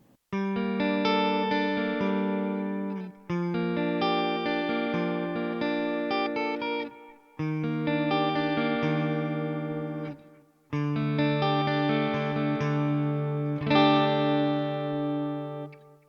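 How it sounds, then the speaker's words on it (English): Divitone MF Studio Smart Guitar, electric, playing sustained chords in four phrases, softened by a light reverb and a faint repeating delay echo trailing each note. "it's just a very subtle reverb. Looks like there's also a delay echo on it as well"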